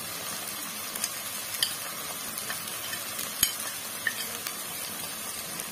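Dry spices stirred into onion and garlic frying in a pan for chicken kosha, a steady soft sizzle with scattered scraping clicks of the spoon against the pan, close and moderately quiet.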